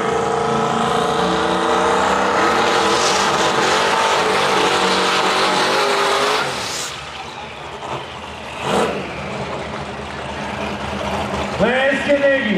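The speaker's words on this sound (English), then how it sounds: "This is one insanely fast Fox body Mustang, you guys." A very fast Fox body Mustang drag races at a rock-and-roll car show street-outlaws shootout, its engine a loud sustained roar that cuts off abruptly, followed by lighter engine revs and tire noise. An announcer talks over it.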